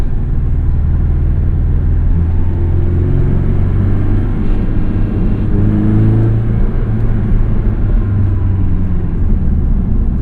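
A 2017 Porsche 718 Boxster S PDK tuned by MTM accelerates, its engine a loud continuous low growl heard from the cabin, with rising and falling tones as the revs climb.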